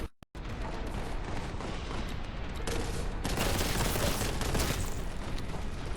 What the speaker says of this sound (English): Well, there's fireworks going off.